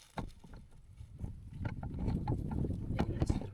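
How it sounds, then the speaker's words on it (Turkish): Gusty outdoor wind rumbles and buffets close against the microphone, rising and thickening over a few seconds with scattered knocks and rustles, no voices. "Rüzgar çıktı."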